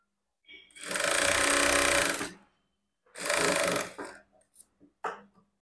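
A sewing machine runs a seam along a twice-folded blouse hook strip, stitched a little in from the edge, in two bursts of steady mechanical whirring, the first longer, followed by a few short clicks and taps.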